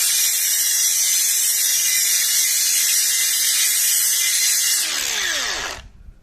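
A cordless angle grinder runs at speed setting 3 with a loud, steady high-pitched whine for about five seconds, then the trigger is released and the motor brakes and winds down quickly into silence.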